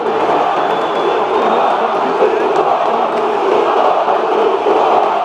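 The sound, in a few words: Botafogo stadium crowd jeering coach Bruno Lage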